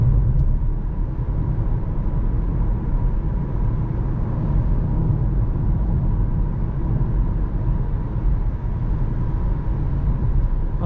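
A 2021 Kia e-Niro electric SUV in sport mode accelerates from 80 to 130, heard from inside the cabin as a steady, constant road and tyre rumble with no engine note.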